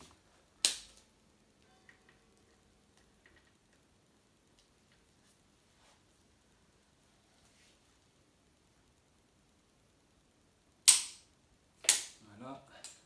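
An ARP 2000 connecting rod bolt is tightened with a torque wrench: one sharp, isolated click early on, then a long quiet stretch before two more crisp clicks close together near the end.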